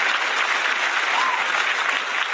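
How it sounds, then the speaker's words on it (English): Steady round of applause from a crowd, dense continuous clapping at an even level with no clear speech over it. "Good round of applause for that."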